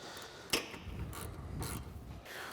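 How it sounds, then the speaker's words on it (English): A socket on a 3/8 ratchet tightens contactor bolts during a Polaris Ranger 570 winch install, giving a few scattered metallic clicks and a sharp tap amid quiet mechanical rubbing, close up with no talking. "socket on a 3/8 ratchet to torque these down"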